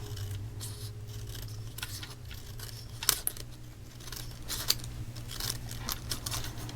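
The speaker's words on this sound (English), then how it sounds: "I'm just going to cut right up the center." Scissors snipping through ribbon paper, steady crisp cuts with light crinkling, close and moderately loud over a low background hum, no talk.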